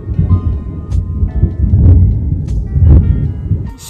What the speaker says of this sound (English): it's currently thundering in Georgia, so just don't mind that